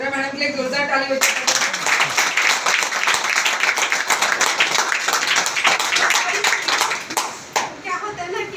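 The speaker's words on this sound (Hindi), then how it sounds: "मेरा मैडम के लिए एक जोरदार ताली बजाइए" A seminar audience gives loud, sustained applause for someone speaker at a business event in Virar, dense clapping running nearly the whole time with brief voices at the start and end.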